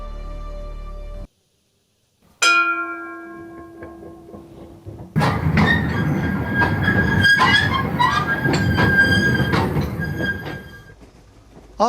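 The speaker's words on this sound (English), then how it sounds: "riding the Bong train is an absolute can't miss" The Bong forest train at Taipingshan rolls along its rails after a bell-like chime, building into a loud, continuous rumble with rhythmic clacks and high metallic wheel squeals, heard close by.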